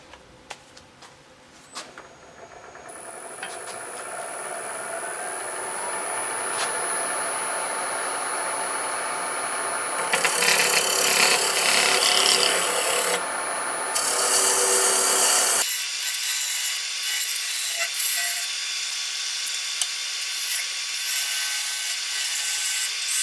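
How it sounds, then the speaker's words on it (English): Wood is shaped into a tenon on a small wooden toothpick holder, apparently on a lathe, with a continuous scraping, rasping cut over a steady motor whine that shifts in tone partway through, close with no talking. "I'm gonna put a tenon on this thing now"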